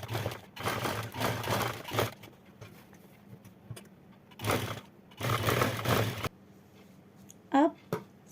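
A sewing machine runs in several bursts while stitching a collar neck, each run a close, steady mechanical whir separated by quiet pauses, with a short clack near the end.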